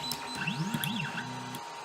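A Geeetech A10 3D printer homes its axes, with stepper motors whining in rising and falling tones, then a steady buzzing hum before stopping, close up with no talk.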